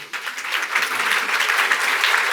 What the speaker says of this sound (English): I want to applaud you